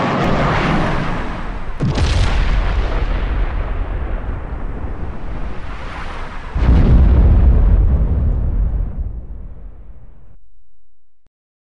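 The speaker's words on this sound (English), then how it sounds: "Blows up the kitchen." An explosion blows up a kitchen, starting with a sharp boom, then a second heavy blast that rolls into a long, loud roar and fades out after several seconds.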